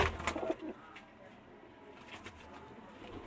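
Teddy pigeons in a Lahore loft coo softly, with a brief louder burst of calls at the start before the cooing settles into quieter background.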